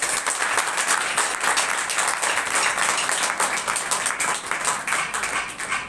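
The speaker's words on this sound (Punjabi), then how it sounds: "ਇੱਕ ਯਿਸੂ ਮਸੀਹ ਦੇ ਜ਼ੋਰਦਾਰ ਤਾੜੀ ਦਿਆ ਦਿਓ" An Easter congregation claps for Jesus Christ, a sustained burst of crowd applause filling the room evenly for several seconds before tapering slightly at the end.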